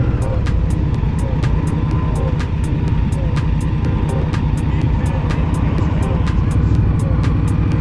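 Indian Scout Bobber motorcycle engine pulling away under throttle as the clutch is released, a steady loud drone with dense low rumble and rhythmic ticking pulses throughout.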